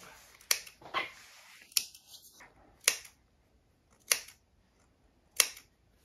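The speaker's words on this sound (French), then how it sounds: "on peut utiliser soit nos petits ciseaux coupe-fil ou nos ciseaux à tissu" Sharp scissor snips cutting fabric repeat at irregular intervals, crisp and close, with quiet pauses between each cut.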